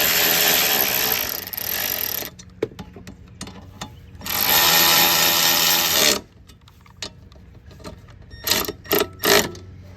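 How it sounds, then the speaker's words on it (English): A ratchet wrench tightens the bolts on a lawnmower, giving close, loud bursts of rough mechanical whirring followed by several short, sharp clicks, with no talking. "So what you do now is you take your wrench and ratchet them down."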